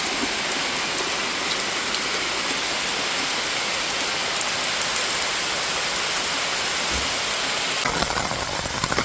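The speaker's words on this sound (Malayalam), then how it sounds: "ഭയങ്കര മഴ, നല്ല മഴയാണ്" Sudden heavy summer rain pours down steadily outdoors near a garden, a dense, continuous hiss of drops hitting surfaces close by, with no voices and a low engine-like rumble faintly underneath.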